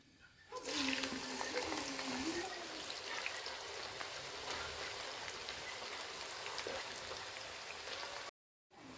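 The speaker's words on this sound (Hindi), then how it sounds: "अल्हम्दुलिल्लाह घी गर्म हो चुका है। अब इसमें प्याज डालेंगे।" Onions sizzle in hot ghee in a kadai, a steady dense hiss and crackle that starts suddenly as they drop in, then holds constant and close until a brief cut near the end.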